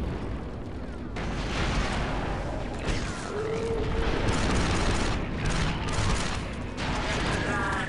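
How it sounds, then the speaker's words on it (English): Explosive charge detonating in the Star Wars Republic Commando game, a dense, loud rumbling blast with a sustained roar and crackle, heard close and alone. "The charge is set and ready to detonate."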